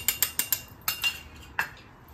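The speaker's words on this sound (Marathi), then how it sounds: "आता ह्याला चांगलं मिक्स करायचं आहे" Kunafa mixture being stirred in a pan, a quick run of four sharp metallic scrapes and clinks followed by a few slower, softer strokes, close and isolated.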